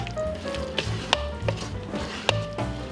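Ground meat filling with A1 steak sauce and shredded cheddar is stirred in a bowl, giving soft wet squishing and scraping with a few sharp spoon clacks against the bowl, close and fairly quiet.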